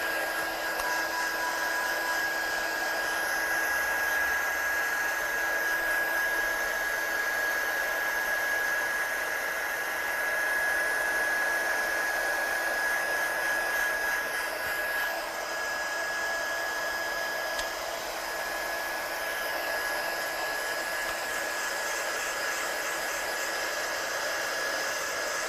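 A heat tool blows hot air to dry ink for heat embossing, a constant close whooshing hiss with a thin steady whine that runs without a break for a long stretch, with no talking.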